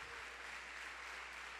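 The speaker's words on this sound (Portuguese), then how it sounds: "Você pode aplaudir mais forte" A church congregation applauds during a sermon, a faint, even wash of clapping with a low hum beneath, brief and steady.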